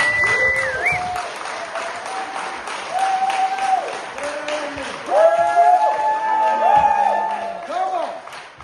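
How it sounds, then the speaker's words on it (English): An event audience gives a round of applause at a Connect Scotland gathering: steady clapping with whoops and cheering voices mixed in, a swell of louder applause near the end, fairly close and lively. "He's a round of applause for David Swan."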